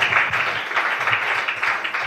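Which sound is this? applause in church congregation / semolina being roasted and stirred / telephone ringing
applause in church congregation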